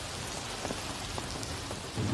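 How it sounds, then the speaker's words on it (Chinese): Steady rain pours outdoors in a drama scene, a dense even hiss of drops with a few faint patters, swelling slightly louder at the end; no one speaks. "下雨了"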